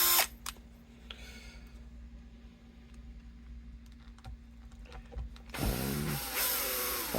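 A Bosch power tool drives pickup screws into a vintage 1972 Gibson SG Pro guitar during reassembly, a short whirring burst near the end after a quiet stretch with a low steady hum and faint clicks.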